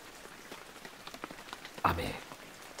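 Rain sound effect in a Japanese comedy sketch: a soft, steady patter of falling rain that swells into a louder splash partway through, with faint voices in the background.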